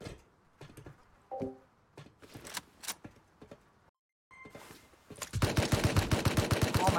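Rapid automatic AK rifle fire in the Rust survival game during a raid defence, a dense burst of loud close shots filling the last two seconds after scattered single gunshots and clanks earlier.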